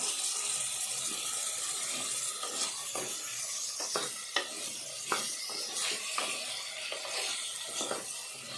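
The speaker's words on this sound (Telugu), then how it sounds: "టమాటా ముక్కలు ఇందులో వేసుకుందాము వేసుకొని ఇవన్నీ కూడా కలుపుకోవాలి" Tomato pieces stirred in a frying pan for a curry with chickpeas: steady spoon scraping and clinks over a soft sizzle, with repeated sharp scrapes throughout and no talking.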